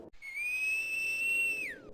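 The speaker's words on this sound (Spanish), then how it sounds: "Este ser tiene un silbido muy particular." A single long, high, steady whistle holds its pitch for over a second, then bends sharply downward and fades, clear and isolated against faint background.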